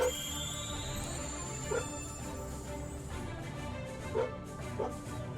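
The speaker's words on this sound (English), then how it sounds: "They're barking too much." Dogs bark indoors in a room, a few short, muffled barks popping up at intervals over a steady background of game music and hum, with no talking.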